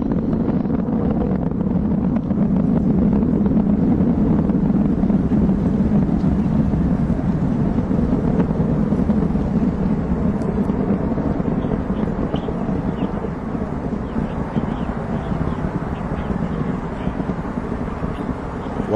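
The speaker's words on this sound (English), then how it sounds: "the New Horizons spacecraft on its way to the very edge of our solar system" Rocket launch carrying the New Horizons spacecraft, about forty seconds into flight: a steady, loud, broadband roar with heavy low-end rumble, continuous throughout with no breaks.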